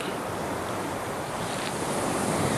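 Ocean waves wash continuously as a sound effect, a dense, steady rushing surf with a windy hiss, loud and unbroken throughout with no voices.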